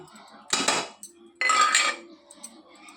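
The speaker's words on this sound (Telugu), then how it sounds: "ఇవైతే నేను మిక్సీ గిన్నెలు అయితే వేసుకుంటున్నాను" Ingredients for a brinjal and cucumber chutney are dropped into mixer grinder jars, making two loud bursts of hard metallic clattering and knocking with quieter clinks in between.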